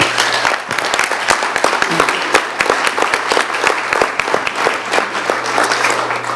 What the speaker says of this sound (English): I just asked for another hand of applause for these two ladies.